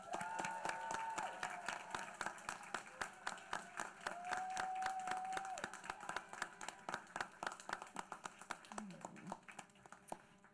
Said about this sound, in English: we give them one last round of applause to our students